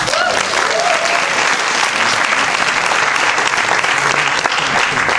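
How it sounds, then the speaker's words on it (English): A live audience at a business training event for the Momentis UK compensation plan breaks into loud, sustained applause that fills the entire stretch evenly, with no voices standing out. "let's give it up one more time for Mr. Gene."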